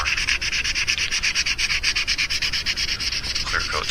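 Sandpaper rubs over a custom mouse lure in quick, even back-and-forth strokes, a close scratchy rasp that continues steadily throughout.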